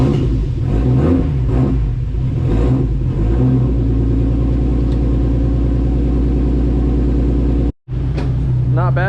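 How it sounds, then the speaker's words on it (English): Nissan R32 GT-R engine roaring close up on an E85 cold start after two months sitting, revving in surges at first, then settling into a steady idle rumble, briefly cut off near the end. "Not bad for a E85 cold start after 2 months."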